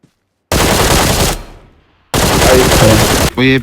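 Rapid automatic gunfire from a tactical shooter game, two loud dense bursts of close machine-gun fire separated by a short decaying gap, ending with a brief voice.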